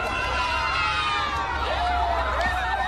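A large roadside crowd in Uganda cheering for the Queen and Duke of Edinburgh, a steady roar of many voices with rising shouts and whistles, loud and close throughout.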